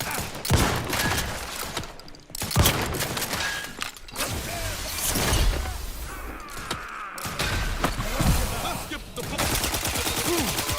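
Dense rapid gunfire from a shootout in the video game The Outer Worlds 2, with sustained bursts and mechanical clatter that stay loud throughout, mixed with voices shouting.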